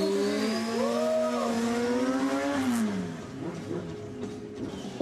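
A 25 kW race vehicle motor revs during a qualification round, its rising and falling whine loud and close for nearly three seconds before easing off into lower, rougher engine noise.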